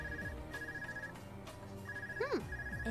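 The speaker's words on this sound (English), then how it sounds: "Oh, phone call." A phone rings in the video game Trails of Cold Steel II, a repeating electronic ringtone of high tones in steady bursts with a short chirping flourish near the end, over soft game background sound.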